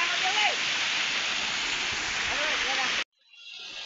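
A waterfall spills from about 200 feet up at the foot of Kalapata hill, a loud, steady rushing roar that fills the scene, with faint chirps over it before the sound cuts abruptly near the end.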